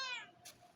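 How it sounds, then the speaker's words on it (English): A two-year-old calico cat gives a single clear, fairly close meow with a rising-falling pitch, followed by a brief soft noise and quiet. "She likes to meow a lot."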